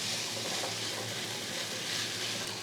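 Potatoes fry with onions in a pan, giving a steady, close, even sizzle that holds without pause and has no talking over it.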